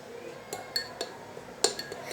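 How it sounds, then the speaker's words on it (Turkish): A spoon clinks against a glass while a cold drink is stirred, giving several light, close taps spaced unevenly over a quiet background. "Şimdi karıştırıyoruz."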